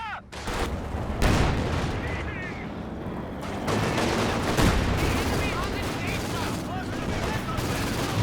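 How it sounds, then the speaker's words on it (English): Heavy battlefield fire in Company of Heroes 2: Katyusha rocket salvos and British base howitzer shells landing amid dense gunfire, sounding as loud repeated booms and sharp cracks over a constant roar of combat. "Katyusha and British base howitzer fire coming in out the back here though."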